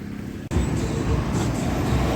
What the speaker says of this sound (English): Nothing like some Friday afternoon traffic in the old GTA, is there?